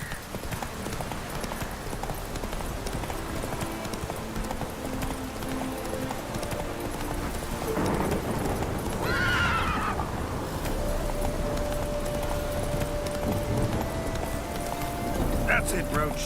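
Roach, the horse in The Witcher 3, gallops with steady clip-clop hoofbeats over a continuous game soundscape, and a brief whinny rises midway. The hooves stay fairly faint under the ambient noise.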